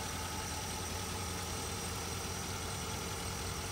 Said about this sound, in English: So this is the XD version of our Titan with the diesel engine.